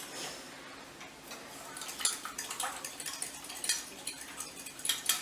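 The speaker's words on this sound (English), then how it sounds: "And then you're going to stir it together." A fork stirring sauce in a bowl for sweet and sour chicken, with quick, irregular metallic clinks and scrapes against the bowl, close and fairly quiet, growing busier after the first couple of seconds.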